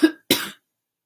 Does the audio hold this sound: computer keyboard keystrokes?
no